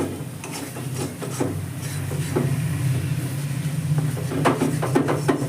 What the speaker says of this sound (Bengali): দেখতে পাচ্ছেন আমি খুন্তির সাহায্যে এইভাবে তুলে দিচ্ছি